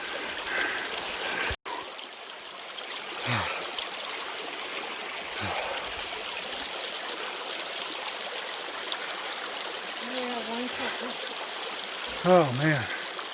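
A creek streams along continuously on a hot day on the Pacific Crest Trail, steady broadband rushing water close by, with brief vocal sounds and bird chirps near the end.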